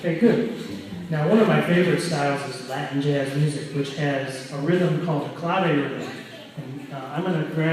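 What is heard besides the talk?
None of the usual background noises is heard.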